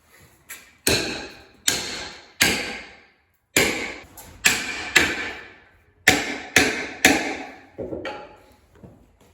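A wooden peg is hammered into a workbench joint with about a dozen sharp, ringing blows in irregular clusters, each decaying quickly, close and loud.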